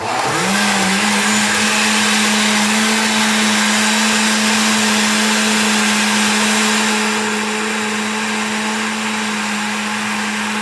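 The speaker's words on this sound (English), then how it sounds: "Okay, blend. now you just hit blend." An old blender whirs loudly and steadily while blending watermelon for lemonade concentrate, a constant motor drone that eases slightly toward the end, with no talk over it.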